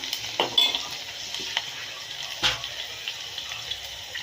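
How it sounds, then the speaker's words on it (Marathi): A spoon stirring and scraping a dhokla mixture in a pan, soft irregular scrapes over a steady low sizzle, with no voices. "तर हे आपण चांगलं मिक्स करून घेऊया"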